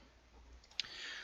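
A single sharp mouse click to enable Cheat Engine for Borderlands 2 on a PC, one brief distinct tick standing out against a quiet, faint background hum.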